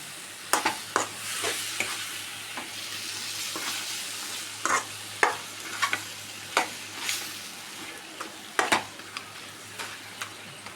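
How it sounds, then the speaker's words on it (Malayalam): Chicken roast with tomato fries in a pan with a steady soft sizzle, while a spoon stirs and scrapes against the pan in irregular knocks and clinks, close by. "എല്ലാം കൂടിയിട്ട് മിക്സാക്കി കൊടുത്ത് നമുക്ക് ഇത് റോസ്റ്റാക്കി എടുക്കണം"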